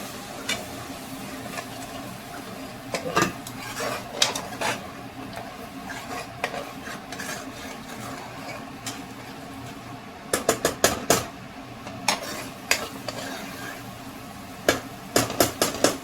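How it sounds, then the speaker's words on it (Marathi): Spinach paste for palak paneer cooks in a pan, with a low steady sizzle and bursts of sharp clinks and scrapes as a spoon stirs against the metal, some close and clustered, others sparse and faint. "आता पालकची पेस्ट ॲड करून घेऊ याच्यामध्ये आणि पालकला पण चांगलं शिजून घेऊ"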